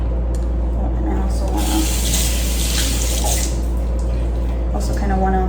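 Tap water runs steadily into a kitchen sink while an onion is rinsed under it, a constant close hiss and splash that fills the whole stretch without a break.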